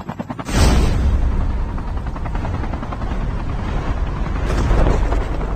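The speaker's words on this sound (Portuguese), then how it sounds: "Ó, outro helicóptero aqui, ó." A helicopter in a video game roars loudly and steadily throughout, its dense rotor thump filling the clip from start to end with a brief swell near the close.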